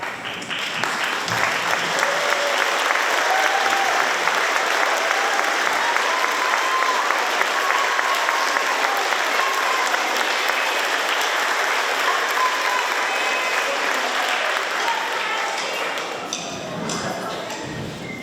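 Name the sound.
audience applause for 9th graders at band concert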